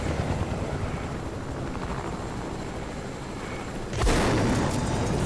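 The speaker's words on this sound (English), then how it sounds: "We'll definitely make it because we're in a helicopter." A helicopter in a video game gives a steady, loud rotor drone throughout, growing abruptly louder and brighter near the end as if the camera or craft shifts.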